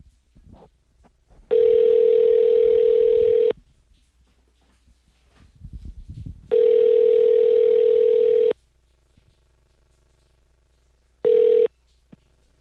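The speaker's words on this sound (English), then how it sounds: "We're going to call Sarah in Toronto" A telephone line gives a loud steady dial tone in three long then short bursts, with faint clicks between as a call is placed, no voices.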